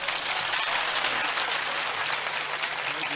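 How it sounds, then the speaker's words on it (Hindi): An audience at a Bageshwar Dham religious gathering applauds, a dense, continuous clapping that holds steady for a few seconds with no voices. "ताली बजाओ ना"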